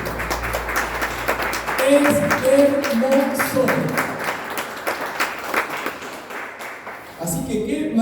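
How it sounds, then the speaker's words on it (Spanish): A congregation at a church vigil applauds in a loose, uneven patter of many hands, while a voice speaks over it and a sustained musical tone rings beneath part of the clapping. "Dale otro aplauso al Señor."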